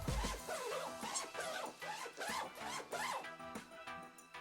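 A Squatch Link disc golf bag's smooth zipper is pulled in a quick run of close, rasping strokes, about eight back-and-forth zips with no talking.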